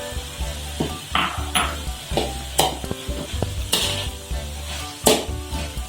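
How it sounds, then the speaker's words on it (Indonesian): Spatula stirring pastel filling with spring onions in a pan, scraping and clinking in repeated strokes over a steady close sizzle. "Kita hanya aduk sebentar saja"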